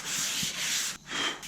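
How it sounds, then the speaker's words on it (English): Sandpaper rubbing across a car body panel during paint preparation, two short steady strokes of abrasive scraping, close and alone. "you just keep sanding really"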